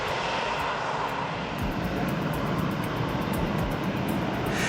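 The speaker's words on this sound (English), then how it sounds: "The crowd watches in awe as a Harrier jump jet hovers effortlessly in the sky, its engines roaring with raw power." Harrier jump jet hovering at an air show, its engines giving a loud, continuous roar of broadband jet noise that stays steady and close throughout, with no voices heard.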